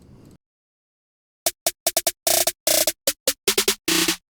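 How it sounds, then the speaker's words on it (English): A burst of noise, then a pause, then a rapid, uneven run of crisp snare hits, some single and some doubled into short rolls, played loud and alone. "Then finally a snare pattern, which sounds like this."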